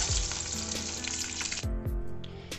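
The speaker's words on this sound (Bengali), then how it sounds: "ডিমগুলো আমার খুব সুন্দর করে ভাজা হয়ে গেছে" Eggs fry over low heat in mustard oil in a pan, giving a steady, close sizzle and crackle that runs through the short stretch with a few brief stirring knocks.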